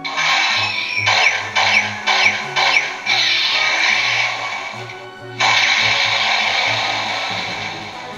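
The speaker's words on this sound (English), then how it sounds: "You get a sort of locking in noise, a laser noise" A Kyuranger DX Kyurenoh toy robot plays electronic sound effects, a bright synthesized locking-in whir with quick laser-like sweeps, then a sustained buzzing tone, all close and fairly loud.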